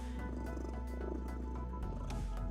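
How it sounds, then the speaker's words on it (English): A cloudbeast in the video game Arknights purrs in a steady low rumble, continuous and close throughout, with faint background game music and no talking. "As she does, Mio purrs louder and louder."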